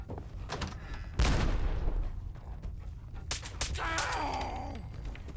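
Gunfire in Fallout 4 VR, with sharp, close shots and bursts breaking through a rumbling background, followed by a cluster of rapid reports and mechanical clatter.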